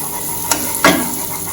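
Curry powder sautés in a pan with a gentle sizzle. Two quick utensil clinks against the pan stand out, close and brief, over the low frying hiss, with no talk.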